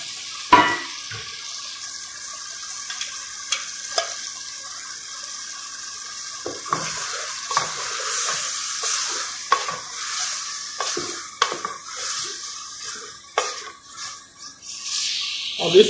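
Sobat ingredients, including green chilli and ginger, being mixed in a hand-operated manual blender, giving irregular whirring and churning bursts with clicks and sloshes over a constant background hiss, no speech.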